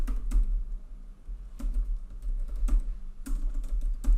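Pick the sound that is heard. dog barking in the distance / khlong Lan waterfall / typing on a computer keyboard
typing on a computer keyboard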